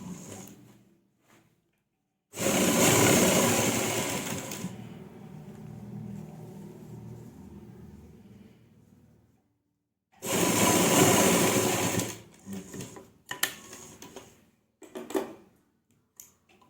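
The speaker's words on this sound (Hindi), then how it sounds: "एक कच्ची सिलाई लगाएंगे।" Sewing machine stitching a kurta neck runs in two short bursts of rapid mechanical whirring, each a couple of seconds long and separated by quieter pauses, with light handling clicks afterward.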